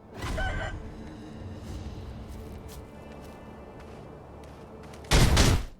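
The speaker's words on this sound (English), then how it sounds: "Oh, chicken." A chicken clucks in the video game Sekiro, with brief bird calls near the start and a loud burst at the end, while someone talks over the game sounds.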